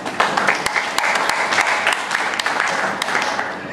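Audience applause at a 1968 school reunion gathering, a dense, steady wash of many hands clapping close and loud throughout, with a few sharper individual claps standing out and faint voices underneath.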